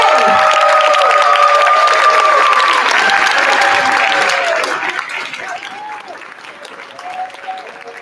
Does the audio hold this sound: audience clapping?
yes